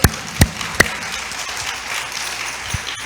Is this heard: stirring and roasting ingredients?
no